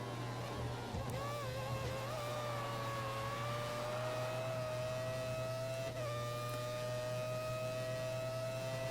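Racing car engine in the video game F1 2014 at the Imola circuit, a steady high whine whose pitch climbs and dips through gear changes and corners, continuous and moderately loud over a constant low hum, with no talk.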